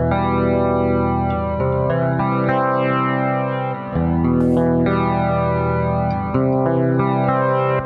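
Electric guitar played through the Nembrini Jazz Chorus amp app on iOS rings out in sustained chords with lush chorus shimmer and some grit, strummed steadily and loud with brief pauses between changes.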